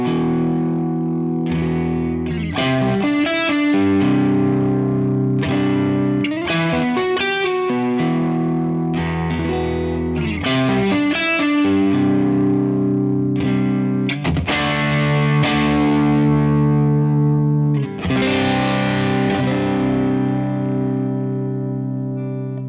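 Electric guitar driven through a CKK SHXC Klon-style overdrive pedal with the gain turned up, playing a loud, continuous run of distorted chords and riffs with sustained crunchy tone and occasional pick attacks, no talking.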